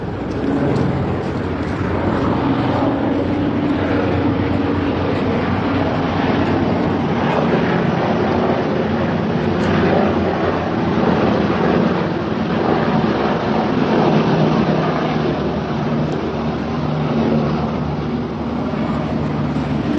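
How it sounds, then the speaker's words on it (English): A police or emergency helicopter passing overhead in Israel, heard as a loud, continuous, broad rumble mixed with gusty wind noise on the microphone, with no talk. "That is police helicopter, not military helicopter."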